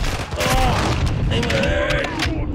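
Flashbang grenade going off during a Call of Duty Modern Warfare 2 campaign firefight, a loud sharp burst blended with rapid gunfire and ringing tones, close and dense for a couple of seconds.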